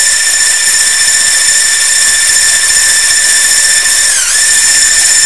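An electric hand mixer beats sugar into a creamy batter for a gluten-free rolled sponge cake. It gives a loud, steady high-pitched whine from start to finish, with one short dip in pitch near the end.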